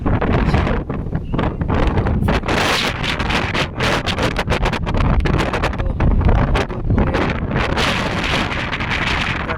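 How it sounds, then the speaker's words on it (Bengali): Stormy gusts of wind batter the microphone outdoors near the Budge Budge–Bauria ferry crossing under darkening skies, a loud, continuous roar with rustling and buffeting bursts throughout, and no voices. "আকাশ পুরোপুরি ঘন কালো দিকে ছেয়ে যাচ্ছে এবং সেই সঙ্গে ঝোড়ো হাওয়া"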